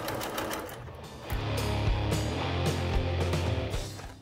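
A sewing machine runs in a fast, steady whirring burst while stitching fabric for a car trash bag, close and loud, starting after a moment of quieter handling.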